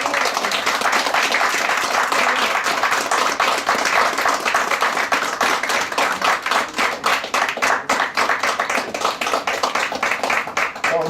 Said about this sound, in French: c'est le moment de les applaudir très fort un peu.